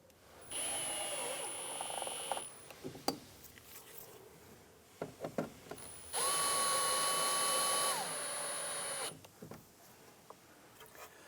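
A power drill drives screws into a 1993-1997 Ford Ranger door, two sustained whirring runs close by, the second rising in pitch, separated by clicks and handling sounds.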